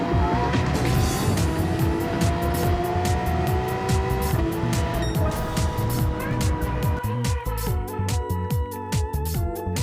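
Race car in Gran Turismo 7 with a loud, continuous engine roar that climbs through gears and shifts on the final lap, with rapid shift pops and tire noise toward the end as it finishes the race.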